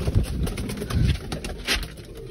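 Pigeons coo in soft, repeated low throaty calls, close by, with faint background rustle.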